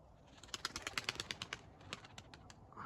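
Tumbler pigeons arrive overhead with a quick run of sharp, rhythmic flutters and calls that peak and then thin out. The sounds are faint and distant against a quiet outdoor background.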